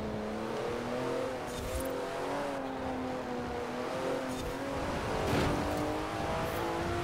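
A Porsche engine in Forza Horizon 4 holds a steady harmonic drone that rises and falls gently as it revs, with occasional brief tire or impact noises over the top.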